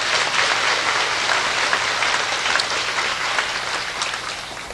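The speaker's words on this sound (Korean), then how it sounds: "박수로 감사의 표시를 해주시기 바랍니다." A large church congregation of around 1,500 people applauding at a worship service, a dense sustained wash of clapping that fills the room and slowly tapers toward the end.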